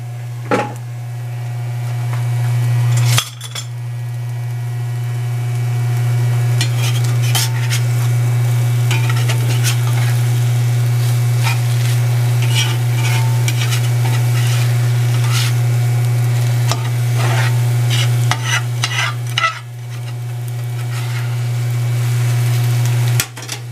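Eggs scramble in a hot cast iron pan, a steady close sizzle with scraping stirs and a couple of sharp knocks, no voices.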